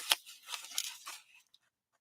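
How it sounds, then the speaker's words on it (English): Paper squares are cut with scissors in a craft room, giving a quick series of close, crisp snips that trail off into silence. "Now, taking our scissors"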